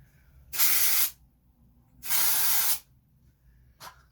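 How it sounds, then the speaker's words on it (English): Two bursts of dry shampoo aerosol spray hiss, each about half a second, separated by a pause, with a brief third puff at the end. "And now I'm gonna take my dry shampoo, lift, spray, lift, spray"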